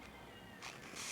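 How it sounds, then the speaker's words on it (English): Cat meowing, a short mewing call with a brighter rise near its end, fairly close and clear against quiet room tone, with no talk during it. "Are you meowing me?"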